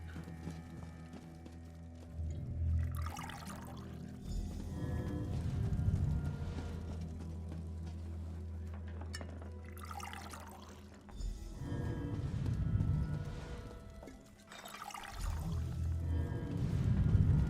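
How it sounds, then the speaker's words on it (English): Potion poured into three casks in The Elder Scrolls Online, heard as separate gurgling pours with low sloshing, each lasting a few seconds with short gaps between, fairly close and without talk. "Take the potion and pour it into the 3 casks."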